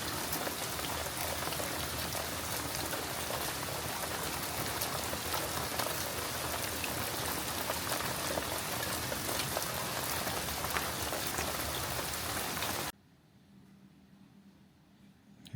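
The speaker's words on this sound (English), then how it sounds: "the rain may lighten up some. Right now, it's coming down and it is cold outside." Heavy cold rain pours down outside an open door, a dense steady hiss of drops on surfaces that cuts off abruptly near the end, leaving quiet room tone.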